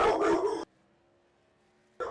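A dog barks in a quick close burst at the start, then quiet follows before another brief yelp at the end, heard indoors during a sim-racing stream.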